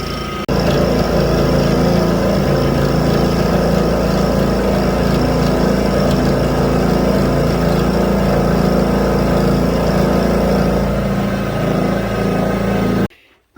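A Mini Mill X3 takes a 40 thou cut in a vise workpiece at 1670 rpm, a loud, steady motor whine and cutting drone running continuously close-up before stopping abruptly at the end.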